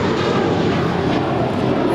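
A JetBlue Airbus A321, four years old, departing Los Angeles International for Miami, gives a steady broadband engine roar that holds even and loud for two seconds with no talk over it.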